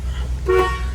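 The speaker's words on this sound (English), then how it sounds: "Horn works." A 1975 Pontiac Grandville's horn gives a single short, loud toot over a low engine idle.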